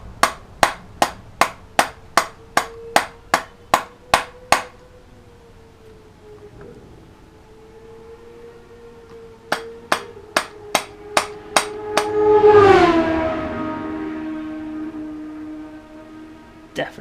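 A small ball-peen hammer taps sharply on gasket paper in a steady run of about ten strikes, pauses under a low hum, then taps again as a whooshing swell passes.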